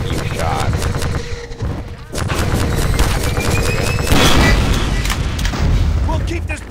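Enemy gunfire in the video game Half-Life 2: Episode 2, dense rapid shots and booming impacts in a loud continuous barrage, with someone talking over it.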